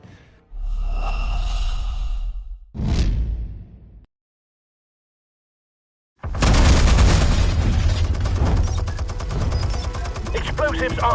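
Explosives detonating in the Batman Telltale series game, two heavy booming bursts with rumbling tails, a stretch of silence, then a long dense roaring blast that continues loud to the end.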